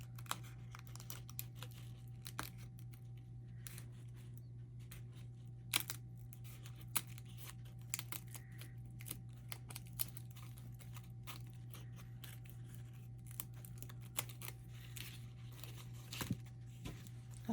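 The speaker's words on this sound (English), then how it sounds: "you just want to go around and cut out those 4 pieces" Scissors snip and paper crinkles while craft pieces for a scarecrow gnome are cut out, quiet scattered clicks over a low steady hum.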